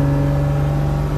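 A truck engine pulls hard in third gear, a loud, steady droning hum with strong tonal whine, heard from inside the cab with no talking.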